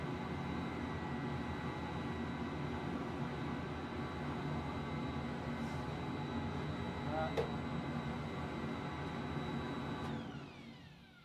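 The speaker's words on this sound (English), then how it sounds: "So we're going to keep going on this sander here and see what we can make happen." A power sander runs in a woodworking shop, a loud continuous motor whir with a faint steady whine, holding evenly before winding down and fading at the end.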